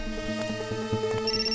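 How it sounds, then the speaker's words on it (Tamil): A telephone rings with steady, repeating electronic tones at moderate volume, heard alone without any voices. "Sir, சித்தார்த்தோட phone."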